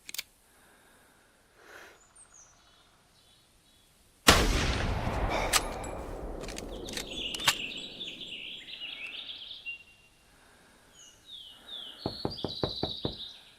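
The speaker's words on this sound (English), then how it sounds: "I better shoot here" A single loud, close hunting rifle shot in theHunter Classic booms out after quiet outdoor ambience, then rings away into a long decaying echo while birds chirp around it.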